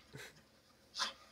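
A dog out in the snow pants faintly: two soft, breathy puffs about a second apart against a quiet background.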